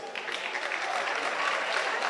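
Audience at a South African election debate gives a party representative a brief round of applause, a soft, even wash of clapping heard from some distance.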